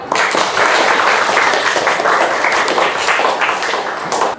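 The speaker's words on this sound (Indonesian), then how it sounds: "Tepuk tangan semuanya." Students in a classroom clap together after a group presentation, a loud, close burst of dense applause lasting about four seconds before tapering slightly.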